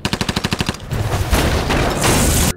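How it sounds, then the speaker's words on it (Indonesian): A rapid burst of about a dozen gunshots in quick rhythm, followed by heavier, noisier blasts and sustained gunfire, loud and close, in a shootout from the film The Predator. "Lalu terjadi baku tembak antara tim Quinn dan pasukan Will."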